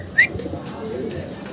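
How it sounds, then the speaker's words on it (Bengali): Blue satin pigeons coo softly at close range in a short burst, with a brief higher chirp near the start over a low background. "ভিডিও স্ক্রিনে আমরা দেখতেছি ভাইয়ের কাছে শার্টিন কবুতর, ব্লু শার্টিন, একদম পুতুলের মতো সুন্দর দেখতে"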